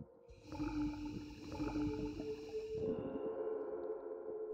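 Dolphin vocalizations from the horror video game Blood Orange: sustained tonal whistles and clicks layered over a low rumbling ambience, steady and fairly loud throughout, shifting pitch midway.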